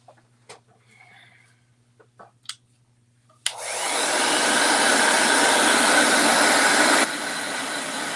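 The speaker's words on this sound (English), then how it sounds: "Let me get my blow dryer." A few light clicks and taps, then a blow dryer switches on with a loud, steady whooshing roar that continues, dropping slightly in level near the end.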